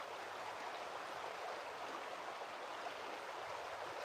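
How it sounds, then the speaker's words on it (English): A river flows steadily and quietly, giving a soft, even rush of water that sounds somewhat distant, with no voices over it. "you might be able to hear the river."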